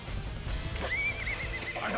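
A horse in the video game Dynasty Warriors 8 Xtreme Legends gives a loud rising whinny over the steady clip-clop of galloping hooves and battle noise, with no talking.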